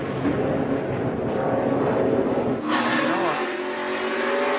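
NASCAR Nationwide race cars running side by side at speed, a loud sustained engine roar that shifts into a rising, whining pass partway through, heard with commentary talk in the background.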